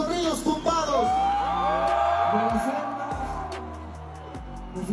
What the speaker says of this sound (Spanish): quiero que se escuche fuerte el grito para el rey de la bandera de los corridos tumbados